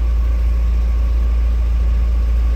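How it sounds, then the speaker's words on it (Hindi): Mahindra Bolero Pickup BS6 diesel engine idling after DPF soot buildup, a steady deep rumble with constant low vibration, close and even throughout with no talking. "वो आइडलिंग स्पीड पर आ गई है इंजन की स्पीड"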